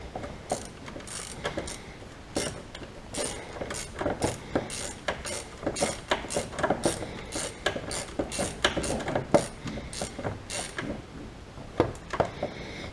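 A hand ratchet clicks in quick bursts of sharp ticks while tightening a bolt on a Mini Cooper R56 engine during a timing chain reassembly, close and loud, with brief pauses between strokes.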